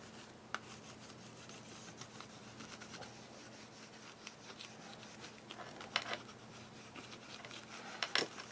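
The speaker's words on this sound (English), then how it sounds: "This metal bone folder is scratching the surface just a little." Faint dry rubbing and scraping of a metal bone folder across a paper journal cover, a soft continuous rasp with occasional small ticks and sharper scratches near the end, close and quiet with no talk.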